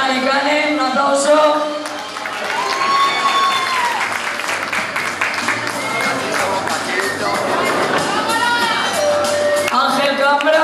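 An audience claps and cheers for performers at a village quintos celebration in Cadreita, with loud sustained applause, scattered shouts and whoops, and voices calling out over it.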